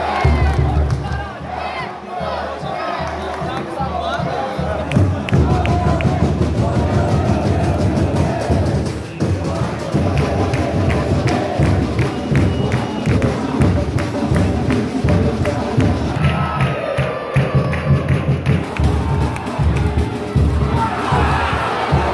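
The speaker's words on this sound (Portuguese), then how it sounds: "Ouça a vaia" Crowd booing and roaring at a third-division Paulista football match in São José dos Campos, a dense continuous wash of voices from the stands, loud and sustained throughout with rhythmic thumps underneath.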